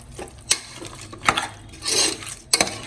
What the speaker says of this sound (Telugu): అల్లం వెల్లుల్లి పేస్ట్ అంతా ముక్కకు పట్టే వరకు కలుపుకుందాం